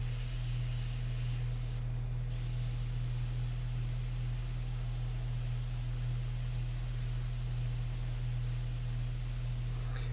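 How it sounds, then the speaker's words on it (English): An electric fan runs steadily indoors as a constant broadband whoosh with a low hum, close and even throughout, briefly interrupted once near the start, with no talking. "Because I just put the fan on."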